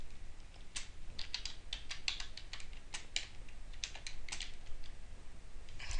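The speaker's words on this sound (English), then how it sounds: "I'm going to just go ahead and type it out right here" Rapid, uneven keystrokes as code is typed on a computer keyboard, close and fairly quiet clicks in irregular bursts with short pauses, no voices.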